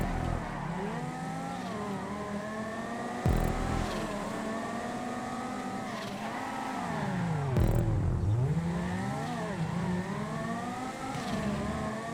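Race cars in a GTA 5 multi-class event, sport, muscle and coupe classes, drone on with steady, close engine roar, rising and falling as they accelerate, with pitch-shifting sweeps of cars passing; no talking.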